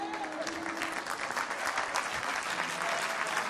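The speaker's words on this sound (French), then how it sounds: "C'est toujours normal qu'il y ait moins d'acclamations à ce moment-là." Church congregation applauding during a sermon, a continuous dense patter of clapping at moderate volume, steady for several seconds with a voice briefly present near the start.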